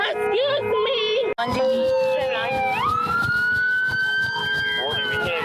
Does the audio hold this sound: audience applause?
no